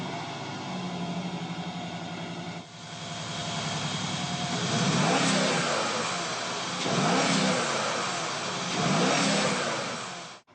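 A 2013 Mercedes-Benz G63 AMG with a 544-horsepower twin-turbo V8 revs loudly and close, building in rising surges, dipping between pulls, and swelling again in repeated bursts of throttle.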